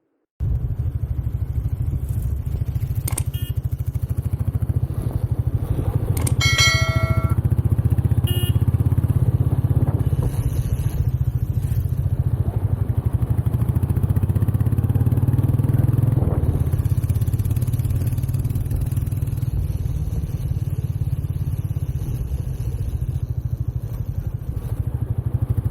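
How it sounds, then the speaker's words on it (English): A motorcycle engine runs steadily and close for the whole stretch, a constant low drone with a thin high-pitched whine on top and occasional clatter, with no talking. "the engine noise is quite high on a higher tone"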